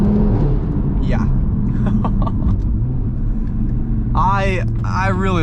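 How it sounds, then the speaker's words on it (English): An Audi RS3 with a loud aftermarket exhaust rumbles low and steady while driving through Boston, a continuous deep drone heard from inside, with people talking over it. "I'm sure we could probably hear the exhaust loud and clear."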